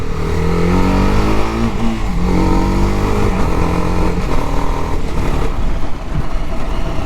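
A TVS Apache RR310 motorcycle engine revs loudly and steadily while riding, its pitch rising and falling through gear changes, close and continuous throughout.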